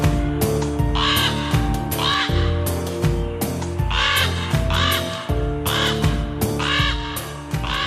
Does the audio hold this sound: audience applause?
no